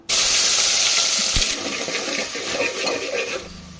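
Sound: onions frying in hot oil for methi chicken curry

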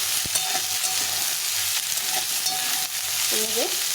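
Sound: frying potato with onion in oil

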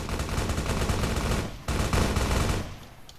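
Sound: gunshots in a video game

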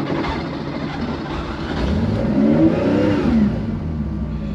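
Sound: 1974 Porsche 911 RSR IROC tribute engine starting

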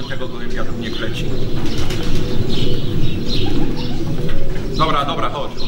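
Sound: homing pigeon at the loft

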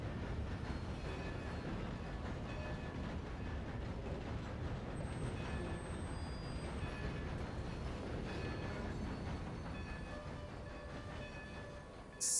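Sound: train passing in Red Dead Redemption 2 video game

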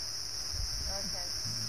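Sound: cicadas trilling

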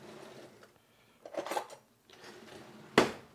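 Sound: big spoon scooping seeds out of a spaghetti squash

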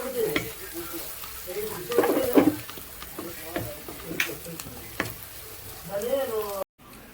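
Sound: frying and mixing with turmeric in a pan

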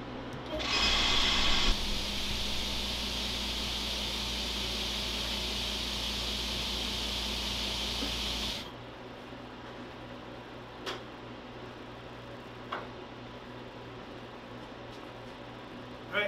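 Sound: screen exposure unit vacuum running

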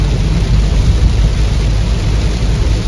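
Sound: heavy rain with thunder

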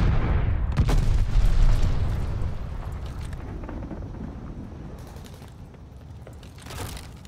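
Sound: glide bomb explosions in video game Call of Duty: Vanguard

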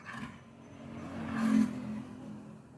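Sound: car engine as driver slowly presses accelerator

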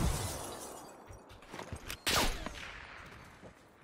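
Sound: LAPA submachine gun firing in the video game Black Ops

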